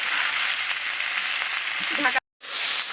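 Mixed winter vegetables with bori lentil dumplings, salt and turmeric fry in a pan, a loud continuous sizzle with a few stirring clanks near the end, then a sudden brief cutout before the frying resumes.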